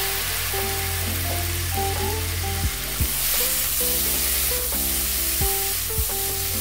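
Snake gourd pieces frying in a pan with scrambled egg bhujia, a constant close sizzle with a few louder clatters as the mix is stirred, while background music plays throughout.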